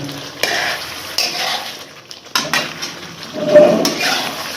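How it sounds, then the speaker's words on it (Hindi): Black pepper chicken karahi is stirred in a wok over high heat, with bursts of sizzling and rough scraping of the utensil that rise and fall in uneven strokes, close and fairly loud. "इसको मिक्स करेंगे"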